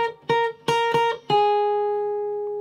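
Jazz-style guitar phrase of a few quick plucked notes that ends on a sustained dissonant fourth, ringing and slowly fading, played close and clear with no talking.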